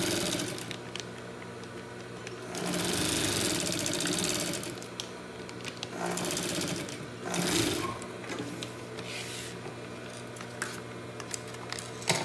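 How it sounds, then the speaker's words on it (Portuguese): A sewing machine stitches packaging fabric close up, its continuous mechanical whirring rising into several longer runs with brief slowdowns in between. "tô terminando aqui de costurar, não precisa dar retrocesso, tá?"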